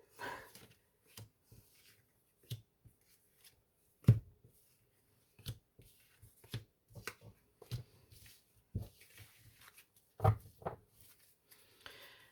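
Tarot cards shuffled by hand for a nine-card spread, heard as irregular crisp snaps and short riffling bursts with quiet gaps between them, close to the listener.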